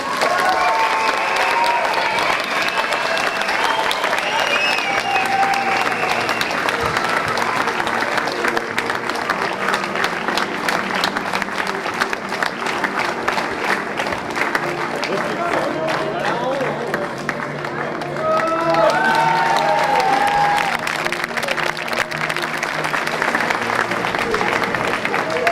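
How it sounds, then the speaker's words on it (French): Crowd applause at a ceremony for a running race in Vélizy, sustained loud clapping throughout with a few cheers rising near the end, heard up close under an announcer's voice. "Je vous demande d'applaudir bien fort notre chef d'orchestre de la ronde"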